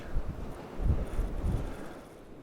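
Strong coastal wind at Witches Point in South Wales buffets the microphone in low, uneven gusts that swell and fade for a couple of seconds, with nobody speaking.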